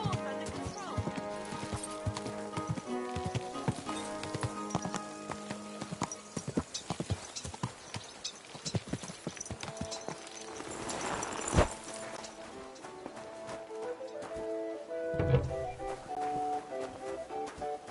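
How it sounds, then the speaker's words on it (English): Steady clip-clop of horse hooves in Kingdom Come: Deliverance II, in Kuttenberg, over busy game music and effects, with a voice speaking and a brief neigh partway through. "Don't you know how to keep your horse under control?"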